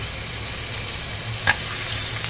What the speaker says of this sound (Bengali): দিয়ে দিচ্ছি কালো জিরে, দুটো কাঁচা লঙ্কা থেতো করে রেখেছি সেটা দিয়ে দিলাম